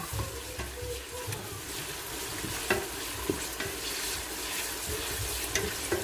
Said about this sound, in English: Then I'll stir. Constant stirring.